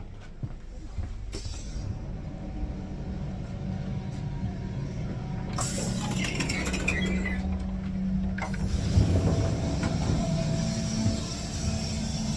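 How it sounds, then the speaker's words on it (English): Inside an old Deutsche Bahn train, a steady rumble and mechanical rattling run throughout. A hydraulic door hisses open partway through, and later the rumble grows heavier and clanks as the train moves. "I like how you can hear the hydraulics in every single door."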